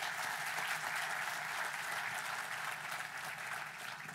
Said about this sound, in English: Let's give the governor a round of applause.